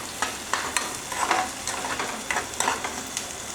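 Crushed garlic and onion fry in a pan, a gentle steady sizzle punctuated by repeated light scraping taps as the mixture is stirred, close and quiet with no talk.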